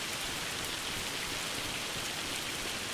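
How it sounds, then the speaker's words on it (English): Steady, dense rain falls in Farming Simulator 25, a continuous even hiss that fills the whole stretch with no pauses and no voices. "Oh, and of course it starts raining on us."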